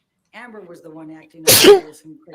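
One sharp, loud sneeze bursts out in a courtroom during a celebrity defamation trial, briefly breaking into ongoing speech from a nearby speaker.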